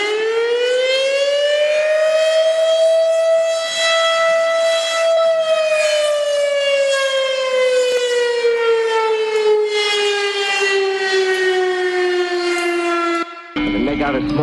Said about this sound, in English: dreading the moment when the blast of the warning siren wasn't the daily